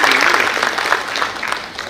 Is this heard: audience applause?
yes